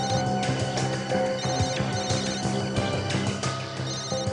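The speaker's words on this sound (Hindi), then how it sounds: "हाँ, फोन की रिंग जैसी आवाज है।" An electronic telephone ringtone sounds steadily at moderate volume, a repeating tonal pattern with harmonic beeps continuing through the whole stretch with no talking.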